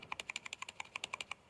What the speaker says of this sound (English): It's a keyboard. You can hear it.